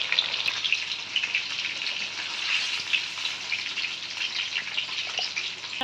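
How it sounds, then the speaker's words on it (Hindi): Cauliflower florets frying in hot oil, a steady close crackling sizzle with fine popping throughout and no talk. "ये देखें नाज़रीन कितने अच्छे से फ्राई हो रही है।"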